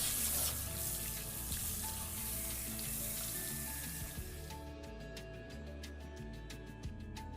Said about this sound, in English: So we're gonna wash this out with lukewarm water.